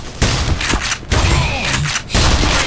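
Gunfire in the shooter game Black Mesa: loud close bursts of rapid shots in three clusters, each a rattling volley with booming impacts, with a voice heard briefly between them.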